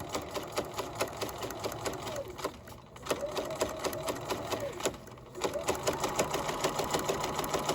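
A sewing machine runs a quarter-inch seam along fabric webbing casing, a fast even mechanical chatter that pauses twice briefly before resuming, with no one talking.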